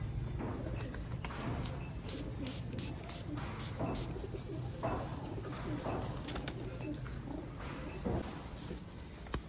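Pigeons cooing close by, with repeated soft low coos over a steady background hum and occasional light knocks and rustles, fairly quiet.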